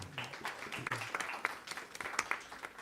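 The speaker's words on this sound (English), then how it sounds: "Let's give all you a round of applause as well." An audience claps in a brief, scattered round of applause, moderately distant, with irregular hand claps overlapping.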